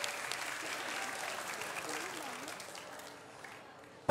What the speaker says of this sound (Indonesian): Boleh beri tepuk tangan biar lebih semangat dulu dong.